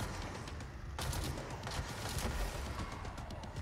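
Enemy gunfire in Control, a dense stream of rapid shots and impacts layered over a steady background roar, fairly quiet and continuous for a few seconds with no voices.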